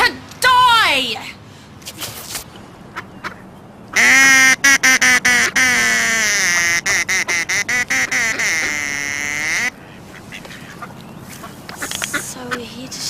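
Loud, repeated duck quacking from a comedy duck-hunting scene, with rapid strings of nasal honks broken by brief pauses, close and dominant throughout.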